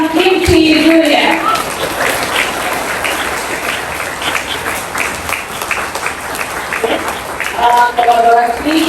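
An audience at a primary school unity programme in Malaysia claps steadily and fairly loudly for several seconds, while a voice speaks at the start and again at the end.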